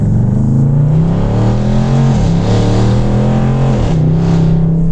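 A 2016 Range Rover Sport Dynamic accelerating hard with paddle-shifted gear changes, its engine note climbing, dipping at each shift and climbing again, loud and close throughout with no talking.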